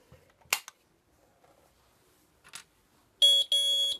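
A few faint clicks and taps, then a loud electronic alarm tone from a Nugelec fire alarm panel, triggered by a manual call point, sounds in two sharp bursts near the end.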